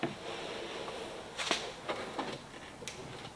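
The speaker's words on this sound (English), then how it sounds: "I hear some creaking noises." Soft creaks and a few sharp clicks and snaps of a plastic interior panel pressing into place in a Dodge Durango Hellcat, close up, with quiet pauses between them.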